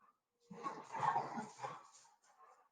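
Pet dogs whimper and whine softly in a quiet room, a couple of short faint whining bursts with brief pauses between them.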